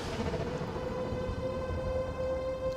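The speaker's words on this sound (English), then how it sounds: "Alright, so Air Raid Siren." An air raid siren from a Scorch/Kreig SFM animation holds a steady, sustained wail without pause, loud and continuous with a rumbling low background beneath it.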